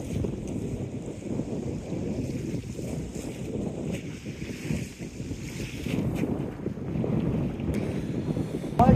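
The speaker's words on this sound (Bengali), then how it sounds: "এখন সবাই মিলে জাল টেনে ট্রলারে তুলছি" A fishing trawler at sea while the crew hauls in the net: a steady, loud rumble of engine and wind buffeting, with a constant wash of water and no clear voices.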